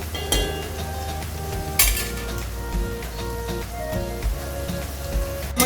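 Sliced onions for beresta fry on a high flame for chicken haleem, a steady sizzle broken by repeated metallic clinks and scrapes of a utensil against the pan, close by.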